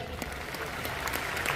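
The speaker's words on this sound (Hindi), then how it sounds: "एक बार इनके लिए तालियां बजाएं।" Audience applause for the winners of Bluetooth speakers at a Next Generation program event, a steady wash of clapping with distinct claps peaking throughout, continuous and fairly close.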